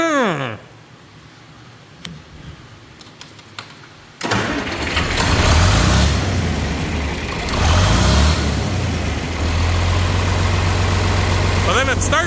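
John Deere 4010 tractor diesel engine being revived: quiet cranking, then the engine catches abruptly and runs loud and steady, rising briefly as it revs before settling into a rough idle.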